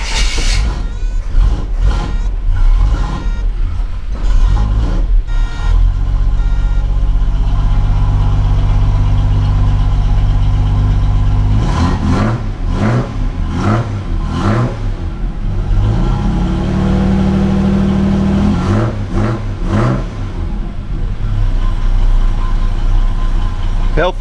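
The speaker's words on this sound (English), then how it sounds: "Healthy little V6 it is." A V6 car engine idles steadily with a low rumble, a few revs and knocks breaking through, close by.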